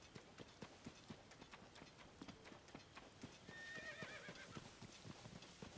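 A horse gallops in Zelda: Tears of the Kingdom, its hoofbeats a steady fast clip-clop, then a whinny rises midway as the running carries on.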